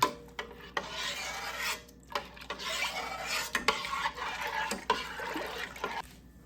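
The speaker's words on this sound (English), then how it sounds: "get this up to temperature. and get it stirred and mixed in really good" Apple pie filling is stirred in a pot with a spoon, giving continuous rasping scrapes and rubbing against the pot in an uneven rhythm, close and moderately quiet with no talk.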